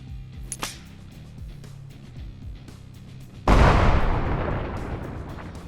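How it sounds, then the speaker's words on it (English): A grenade detonates in the Bellum shooter with a custom fragmentation effect: quiet low ambience and faint clicks first, then one sudden loud, sharp blast that decays into a long noisy rumble. "Beyond refreshing and adding grenade animations and effects, we've developed a custom fragmentation system from the ground up"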